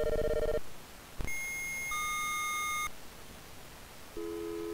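Dial-up modem style phone tones from the Commodore 64 game Impossible Mission: a buzzy chord, a short click, then a sequence of pure electronic beeps at changing pitches, held steady over a hiss, with no speech.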